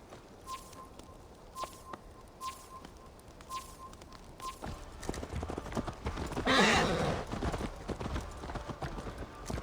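Hooves clip-clop in a steady rhythm over an ambient Assassin's Creed Valhalla soundscape, with a horse whinnying loudly near the middle before the trotting continues.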